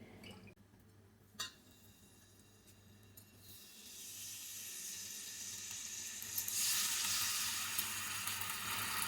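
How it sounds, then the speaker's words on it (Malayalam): Marinated chicken pieces shallow frying in a little oil, a soft sizzle that swells into a steady, louder hiss in the second half, with a few faint clinks early on and no voices. "ചിക്കൻ നമുക്ക് ആദ്യമേ ഒന്ന് ഫ്രൈ ചെയ്തെടുക്കാം"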